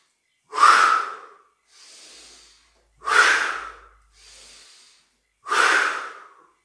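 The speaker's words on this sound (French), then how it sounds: "expirer fortement pour se défaire de toute l'énergie stagnante et de l'air au fond des poumons" Three strong, forceful breaths during a qigong breathing exercise, each a sharp loud exhale through the nose followed by a softer, quieter inhale, evenly spaced and close.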